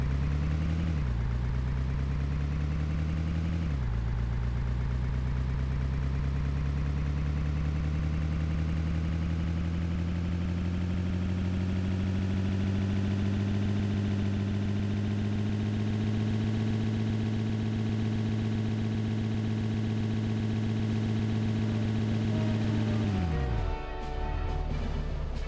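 A vehicle engine idles in the Hidden & Dangerous Deluxe video game, a loud, steady drone that shifts pitch early on, then holds an even rumble for about twenty seconds before cutting off abruptly near the end.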